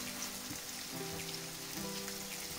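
Potato and tomato omelette cooking in a frying pan, giving a steady, soft sizzle with a rain-like crackle throughout, plus a faint low hum.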